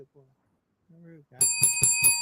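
A bicycle-style bell rung as a sound effect: several bright, rapid metallic rings in quick succession, loud and clear, following a brief stretch of speech.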